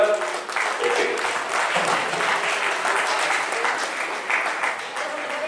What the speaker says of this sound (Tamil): அதுக்காக ஒரு பலமான கரகோஷம் கொடுங்க